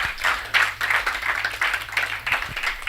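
Conference audience applauds a youth presenter, a small group clapping in uneven bursts at moderate volume, with a low hum beneath.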